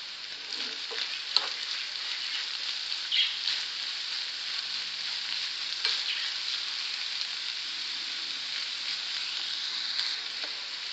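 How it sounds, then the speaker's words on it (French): Food sizzling in olive oil in a pan while being stirred, a steady hissing fry with occasional scraping and stirring clicks, moderately quiet, no voices. "Et remuez quelques minutes."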